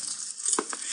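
Eggs and pork frying in a pan as a 1950s radio drama sound effect: a steady close hiss of sizzling with a couple of brief utensil clinks partway through, and no voices.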